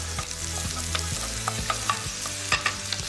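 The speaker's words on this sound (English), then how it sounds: "I want that bacon to get really nice and crispy" Bacon fries in a hot pan with a constant close sizzle, broken by scraping clicks as the pieces are stirred.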